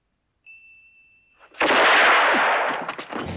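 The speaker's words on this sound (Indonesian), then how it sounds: "El Indio lebih dulu menembak dan membunuh Tommaso" A pocket-watch chime tone rings for about a second before a single loud gunshot blasts from a revolver in a Western film showdown between El Indio and Tommaso, its broad roar ringing out and decaying with echo.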